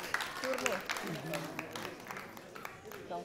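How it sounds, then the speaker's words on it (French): An outdoor crowd at a school cleanliness award ceremony applauds a winner with scattered, moderate clapping while people talk loudly over it. "On l'applaudit, s'il vous plaît."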